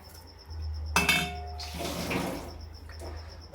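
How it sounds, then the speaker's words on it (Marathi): Metal pots and utensils clatter and bang down in a home kitchen, a sharp cluster of ringing impacts followed by rattling and a few softer knocks, with a faint tap-like hiss behind. "अजून भांडे पडले."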